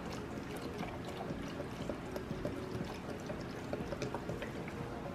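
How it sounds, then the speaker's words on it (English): Beef broth pours into a slow cooker in a steady, quiet splashing stream, continuing evenly with no pause and no voices. "6 cups of beef broth"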